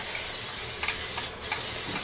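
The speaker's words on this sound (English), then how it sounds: "I'm going to spray it with a little bit of my spray." Dawn Power Wash dish spray hisses out of its nozzle in a kitchen, a steady and fairly loud aerosol spray that briefly pauses near the end before it resumes. No one talks.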